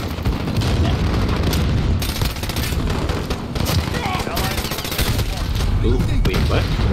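Rapid bursts of suppressed AS Val rifle fire in a Modern Warfare multiplayer match, dense and continuous with crackling shots and game effects, with players talking over the action.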